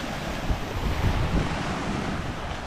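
Continuous roar of ocean waves mixed with gusty wind noise on the microphone, no voices, steady and loud throughout.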